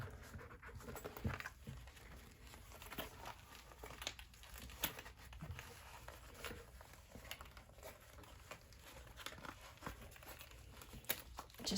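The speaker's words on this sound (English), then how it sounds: "You gotta kind of be okay with scrunching it to get it turned right side out." A small fabric circle wristlet bag with a zipper is scrunched and pushed right side out, giving a steady close crinkling and rustling of cloth that continues with soft irregular patter and no talking.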